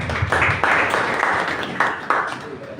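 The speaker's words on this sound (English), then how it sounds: "Clap for yourselves." An audience at a nursing school presidential debate claps together, a dense, steady patter of many hands up close, filling the moment with brief swells and slight dips.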